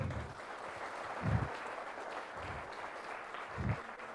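An audience at a creators summit claps in a continuous, fairly soft patter of applause, with a few heavier bursts standing out from the steady crowd clapping.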